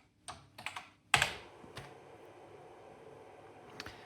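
Keys clatter on a BBC Model B computer keyboard, a handful of sharp close presses followed by one louder thump and a few scattered taps, with no talking.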